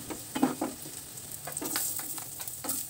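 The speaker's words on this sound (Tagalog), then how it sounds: "igigisa muna natin itong ating bawang" Garlic sizzles gently as it sautés in a pan, with soft crackles and short scraping stirs repeating over a few seconds, close and fairly quiet.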